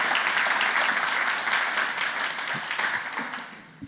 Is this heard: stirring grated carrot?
no